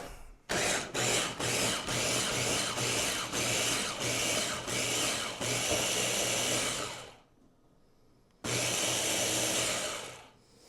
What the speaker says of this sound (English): I'm gonna break up the cubes into smaller pieces with this food processor